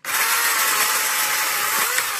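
A small chainsaw bites into dead wood in the Hautes-Pyrénées mountains, giving one continuous, loud, close engine whine without pause or talk.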